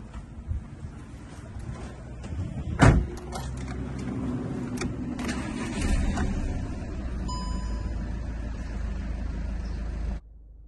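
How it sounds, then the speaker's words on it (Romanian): A 2010 Volkswagen Passat with a 2.0-litre TDI 140 hp diesel engine cranks and fires with a sharp, loud burst. It then settles into a steady, close idle clatter that runs for several seconds before cutting off. "Haideți să pornim împreună mașina."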